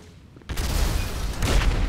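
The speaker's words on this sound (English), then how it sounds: "Oh, everything is exploding!" Explosions and gunfire during a heist shootout in Grand Theft Auto V: a sudden loud blast after a quiet moment, then sustained rumbling booms and crackling shots, close and heavy.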